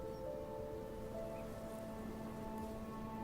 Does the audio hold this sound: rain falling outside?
yes